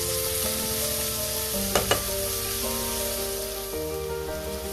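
Onions fry in hot oil in a pan, a loud continuous sizzle with a couple of brief stirring clatters near the middle, while steady background music plays underneath.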